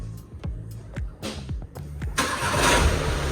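A Volkswagen Golf fitted with a remote smart-key start: a few short clicks and beeps, then the engine cranks and catches, settling into a steady, close idle.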